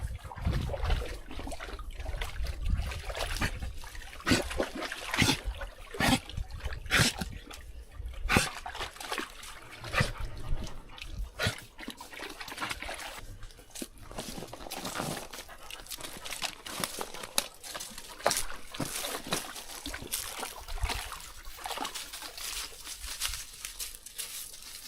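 Water trickles and splashes steadily along a rocky desert stream, a continuous close wash of liquid noise with scattered crackles, no voices.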